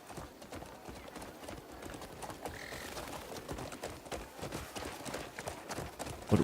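Hooves clip-clop at a steady trot in the video game Crimson Desert, a constant rhythm of soft, close footfalls with faint ambient noise and a brief call partway through.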